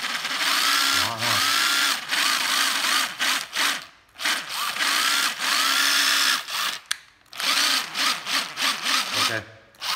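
A used cordless drill with dried, hardened grease runs rough and raspy in repeated bursts, whirring loudly for stretches broken by brief stops and restarts, with no talking.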